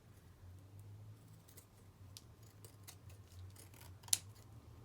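Scissors cut through an old paper photo packet, with one crisp, sharp snip near the end over a quiet background and faint rustling before it.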